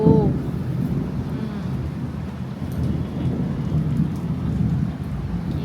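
Low rolling thunder rumbles on and on beneath a steady hiss of rain, loud and close throughout.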